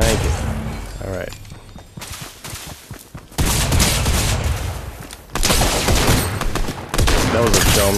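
Rapid bursts of gunfire from the video game Fortnite, with dense volleys and a few loud thumps, under a player's voice. It stops briefly, then resumes in heavy fusillades.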